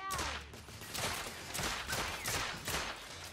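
Sustained gunfire in The Order: 1886 on PS4, a steady volley of rapid shots and reports layered over game ambience, with no talking.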